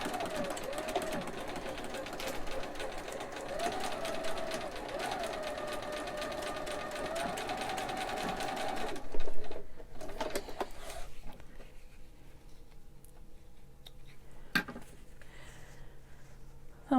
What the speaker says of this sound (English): So I'm going to just sew this other one really quick.